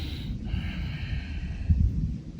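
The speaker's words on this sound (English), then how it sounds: "Deep breathing in the nose, out the nose" Deep exhalations out through the nose during a yoga hip and back stretch, soft airy breaths close by with a stronger snort-like push near the end.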